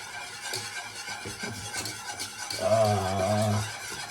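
Milk being stirred into a thickening sauce in a pot for Jamaican macaroni cheese, a steady spoon-scraping and swirling with a sizzle beneath, growing busier toward the end, with no talk.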